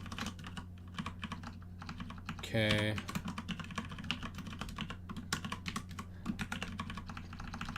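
Rapid clatter of typing on a loud computer keyboard plays throughout, close and fairly faint, with a brief spoken word partway through.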